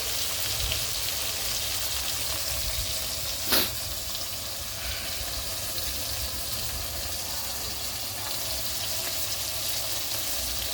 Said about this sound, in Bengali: কালো জিরে ফোড়নে দিয়ে দিয়েছি, শুকনো লঙ্কা দিয়ে দিয়েছি ফোড়নে।